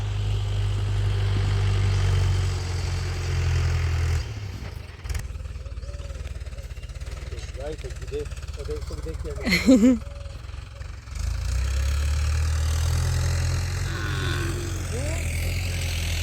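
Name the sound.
tractor engine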